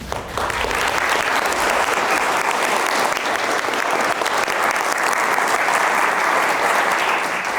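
A seated audience gives a steady, full round of applause to welcome speaker Samin Saadat, loud and dense from start to finish, with no voices standing out.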